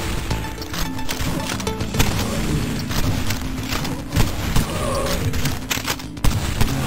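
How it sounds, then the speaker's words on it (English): Repeated heavy shotgun blasts from the video game Cultic, loud booming reports with crashing impacts over continuous combat noise, several shots spread across the passage. "Shotgun to the face."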